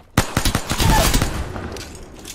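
Gunfire in the video game Apex Legends, a rapid burst of loud, close shots that blur into a booming, rumbling tail and fade out over about two seconds.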